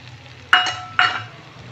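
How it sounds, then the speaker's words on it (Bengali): Two short scraping stirs of fried semolina with coriander leaves and mustard seeds in a pan, each a brief bright rasp over a faint low background hum. "ভালো করে সুজিটাকে নাড়াচাড়া করতে হবে"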